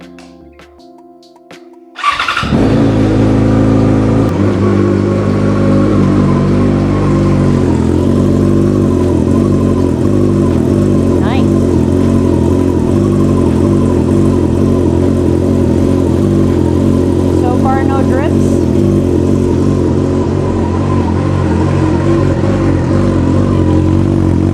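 2013 Yamaha FZ6R motorcycle engine after a radiator upgrade: clicks, a starter crank, then the engine catches and runs loud and close, idling steadily with occasional light revs for about twenty seconds.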